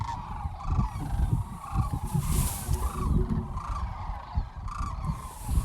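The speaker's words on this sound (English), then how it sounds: "Oh, you got some cranes flying right overhead." Sandhill cranes fly overhead outdoors, their rolling, honking calls repeating steadily throughout at moderate loudness, with several birds overlapping and no talk.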